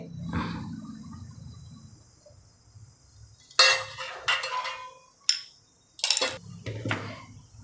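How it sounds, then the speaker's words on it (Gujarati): Coriander is chopped coarsely and pounded in a home kitchen, producing a quiet stretch followed by several sharp, irregular knocks and thuds close by. "હવે એમાં ધાણા સુધાર લઈશું એની સાથે જ મોટા મોટા સુધાર લેવાના આપણે ખાંડવાનું જ છે"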